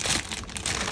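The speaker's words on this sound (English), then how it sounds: "I'm gonna add up my crackers, my water crackers and add that." Water crackers crumbled by hand into a dish while making Jamaican steamed fish, heard as a continuous close, dry crinkling and crunching for about a second, with no talk.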